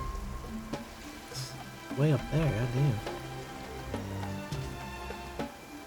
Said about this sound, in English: If the rain washes away the traces, it's gonna set us back